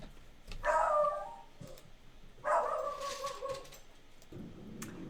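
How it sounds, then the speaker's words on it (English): Dogs bark and whimper indoors in two loud, close bursts, each lasting under a second, with quieter whines and rustling in between. "the dogs have calmed down a little bit"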